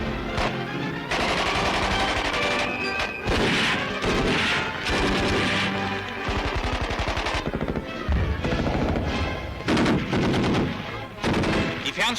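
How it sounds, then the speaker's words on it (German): Heavy gunfire and shelling in a 1940 German newsreel of a signal troops exercise: dense, loud bursts of rapid shots and crashing blasts fill the whole span, with a background score underneath. "Das Gelände liegt unter angenommenem schweren Beschuss."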